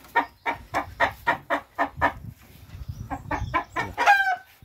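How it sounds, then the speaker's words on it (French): Hens on a small farm cluck in a quick rhythmic run of close, distinct calls, then a rooster lets out a short crow at the end, with no talking. "on entend le coq"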